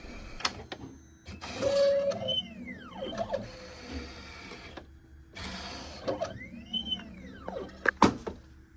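An optical tracing machine runs over an eyeglass frame in an optician's lab, giving off whirring, ratcheting mechanical motion in two repeated sweeps, with a brief clack between them and near the end.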